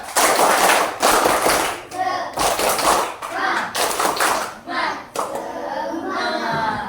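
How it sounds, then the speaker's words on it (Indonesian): A primary school class of children joins in a rhythmic clapping cheer, bursts of claps in patterned groups with short pauses between them, close and loud, with young voices mixed in. "Kita tepuk semangat sekali lagi yuk, biar semangat terakhir."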